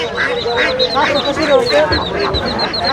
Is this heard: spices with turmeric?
no